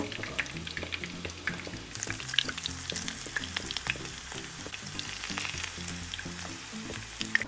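Beef taquitos fry in a shallow layer of oil with a steady crackling sizzle and scattered sharp pops, staying even and close throughout, with no voices.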